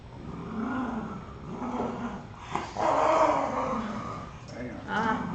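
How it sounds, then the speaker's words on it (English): Several dogs growl at close range in low, rumbling bursts that rise and fall, with a few higher yips and whines mixed in and some faint human voice underneath. "Ah, the dogs."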